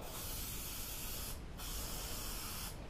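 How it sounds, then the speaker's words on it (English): Two long bursts of 3M Super 77 spray adhesive hiss, steady and close, separated by a brief pause. "Spray on both sides."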